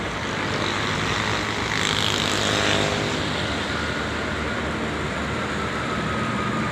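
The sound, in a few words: premium bus driving out after being washed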